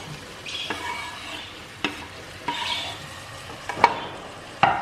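Chopped tomatoes go into a frying pan for mutton kuzhambu and are stirred: a few sharp spoon scrapes and clinks against the pan over a soft, steady sizzle.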